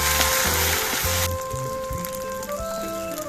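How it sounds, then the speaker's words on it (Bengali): Ginger paste fries in hot oil with five-spice seasoning, giving a close, steady sizzle and crackle with a few stirring clatters. No one speaks. "আদাটাকে আমি 2-1 মিনিট ভেজে নেব।"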